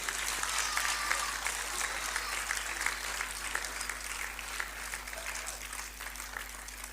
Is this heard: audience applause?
yes